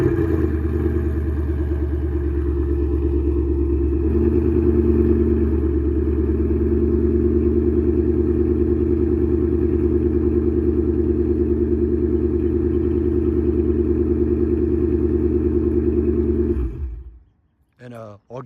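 A 2021 Ford Mustang GT with a Borla S-Type catback exhaust idles after a warm start, a loud steady deep burble close by, holding a constant drone before cutting off near the end.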